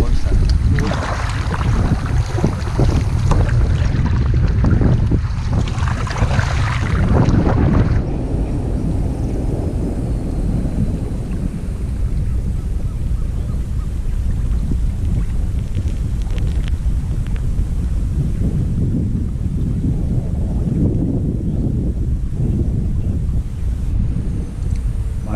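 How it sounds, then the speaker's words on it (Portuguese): Strong winter wind buffets the microphone on a riverbank while fishing for jundiá, roaring and gusting in heavy rumbling bursts, loudest early on, then settling into a steady low blustering. "Bastante vento, bem ruim de pescar."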